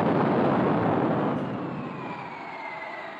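Frank Whittle's early jet engine running on a test stand, a loud steady roaring rush that eases slightly in volume after the first second and holds as a continuous broadband drone.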